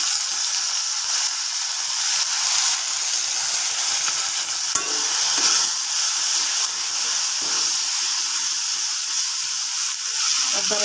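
Ginger-garlic paste masala frying in a pan, a steady loud sizzle and hiss throughout with occasional stirring scrapes, no talk.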